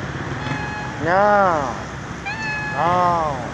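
Two drawn-out meows from a cat, each rising then falling in pitch, heard against a steady background hiss.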